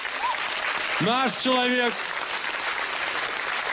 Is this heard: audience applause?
yes